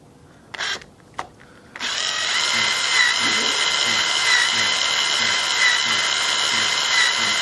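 Power drill spinning up to electrically turn over a model Webster engine: a few short whirring bursts, then a continuous high whine with a faint rhythmic thump as the engine hits compression, close and fairly loud.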